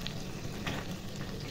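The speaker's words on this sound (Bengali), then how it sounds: "বেগুন ভাজা আর আলু ভাজা।" Eggplant and potato slices fry in hot oil with a continuous, close crackling sizzle and light stirring movements.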